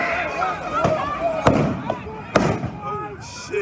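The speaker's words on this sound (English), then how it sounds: "Flashbangs, tear gas, rubber bullets." Flashbang grenades burst at a street protest, three or four sharp bangs spaced over a few seconds amid crowd noise and shouting voices.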